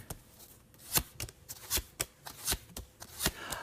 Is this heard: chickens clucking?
no